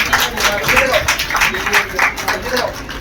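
Brief burst of students clapping for a high-percentile achiever, a close, moderately loud patter of hands with rhythmic pulses, blended with crowd murmur.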